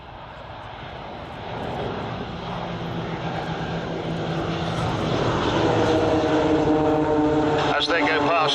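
A Boeing 737-800 flies past in formation with aerobatic propeller planes at an air show, a jet and propeller roar that swells steadily and grows louder as the aircraft approach and pass, with someone speaking over it.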